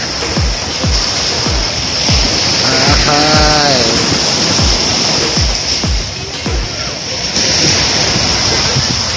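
Sea waves wash steadily onto the beach at Pantai Banua Patra in Balikpapan, a broad continuous surf wash with wind over it, and a person speaks briefly partway through.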